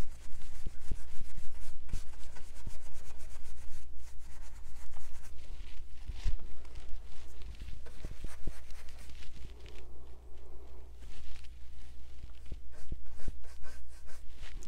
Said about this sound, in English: See how I kind of like lay my brush to the side and I kind of like rub it?